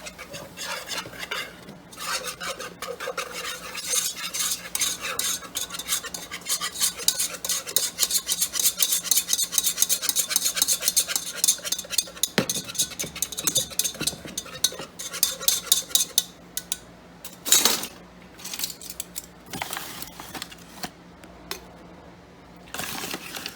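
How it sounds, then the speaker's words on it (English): A whisk beats flour into melted butter in a pot for a mac and cheese roux, a fast, loud, continuous rhythmic scraping against metal that pauses briefly and resumes, with no talk. "So we're going to go ahead and mix our flour in with our butter now."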